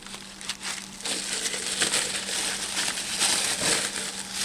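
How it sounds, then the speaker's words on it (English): Bubble wrap is crinkled and peeled off a glass dome, a continuous close rustling and crackling of plastic that runs for several seconds at moderate volume. "We've got ourselves a bubble-wrapped dome."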